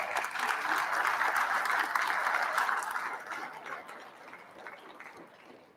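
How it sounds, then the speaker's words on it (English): Banquet audience at a sports hall of fame ceremony applauds an inductee, a dense steady wash of many hands clapping that swells early, then gradually thins and fades out. "Let's give him a round of applause."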